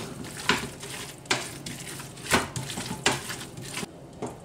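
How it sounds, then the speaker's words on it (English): A spoon scrapes and stirs through thick creamed spinach with pancetta in a pan, in several distinct wet strokes about a second apart, close and fairly loud, with no talk. "mix this good"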